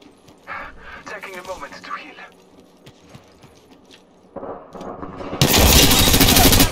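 Gunfire in the Apex Legends video game: a sudden loud, rapid automatic burst near the end, following quieter game sounds and voice chatter.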